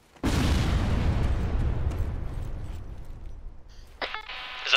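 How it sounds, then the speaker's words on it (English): Mortar fire in the video game Arma 3: a sudden loud boom followed by a long rumbling decay, then a sharper crackling burst near the end. "That's mortar fire."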